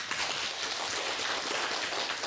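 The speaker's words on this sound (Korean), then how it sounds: "이런 뜻으로 우리 박수로 우리 함께 드립니다." A church congregation applauding during a 104th anniversary worship service, a dense, steady wash of many hands clapping together at an even level with no voices over it.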